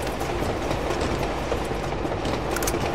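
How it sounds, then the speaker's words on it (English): A moving train in the video game Uncharted 2: Among Thieves Remastered gives a loud, dense rumbling clatter of rolling wheels and rattling cars, steady and close throughout with no speech. "I didn't even realise I could go along the side of a train."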